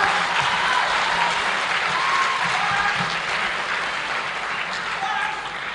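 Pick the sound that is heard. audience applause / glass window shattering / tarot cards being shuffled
audience applause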